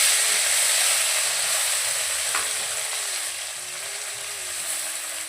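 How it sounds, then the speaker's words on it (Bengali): Fish rubbed with salt and turmeric fries in oil in a wok, producing a loud, continuous close-up sizzle and hiss that eases slightly midway, with faint kitchen sounds underneath. "আর এদিকে আমি মাছগুলো ভেজে নিচ্ছি।"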